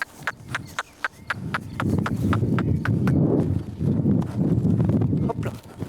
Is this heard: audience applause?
no